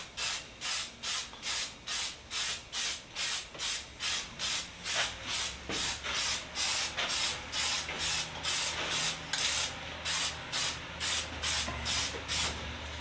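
Lacquer sprays onto a tool in short, regular hissing bursts, about two per second, repeated steadily at close range with no talking.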